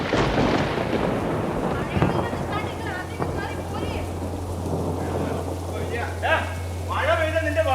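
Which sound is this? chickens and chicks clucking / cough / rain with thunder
rain with thunder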